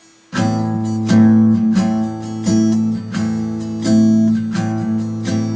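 Acoustic guitar strummed in a steady repeating six-stroke pattern of alternating down and up strokes, with accented chords at regular intervals, close and fairly loud.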